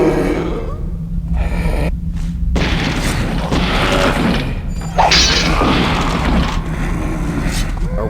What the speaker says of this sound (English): One flash bomb got us through there.